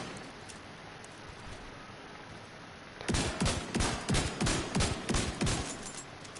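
Rifle fire in The Division 2: after a few seconds of quiet ambience, a rapid string of about a dozen loud, close shots rings out in quick, even succession.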